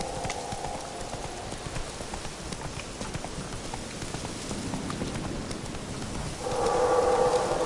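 A horse's hooves clip-clop at a steady walking rhythm in the video game The Witcher 3, with a soft ambient bed and a brighter tonal layer rising near the end.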